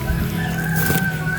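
A native rooster crows nearby, a drawn-out cry over a background of clucking native chickens and low ambient noise on a backyard farm.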